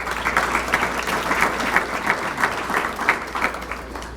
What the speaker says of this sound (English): So round of applause for Liberty University.